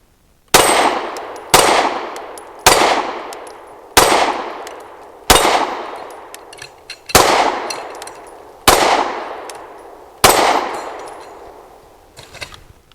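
Eight pistol shots from a Canik METE MC9L 9mm handgun at an outdoor range, loud sharp reports evenly spaced about a second apart, each with a ringing decay, alone without talk.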